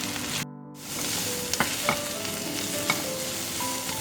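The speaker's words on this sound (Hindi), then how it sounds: "सिर्फ स्टफ फ्राई करके इसमें मैंने मिक्स करना है" Carrots and onions stir-fry in a pan, a steady close sizzle with a short dropout early on, followed by a few light scrapes and clicks of a spatula.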